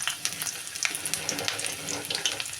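Chopped ginger and garlic fry in a pan with a bright, steady sizzle, dotted with small pops and a few faint watery clinks, close by and with no talk.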